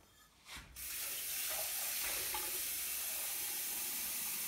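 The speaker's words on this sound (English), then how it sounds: "Alright, cold water." Cold tap water runs steadily into a bowl to bind a Cajun-spiced dough. It starts after a brief pause and continues as a constant, close, hissing stream with no talk over it.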